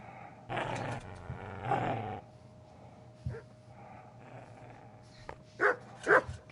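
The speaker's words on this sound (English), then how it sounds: "Get away, you mutt!" A dog growls and snorts in the medieval video game Kingdom Come: Deliverance, a low, rough rumble close by, then a few sharp bark-like bursts near the end over quiet ambience.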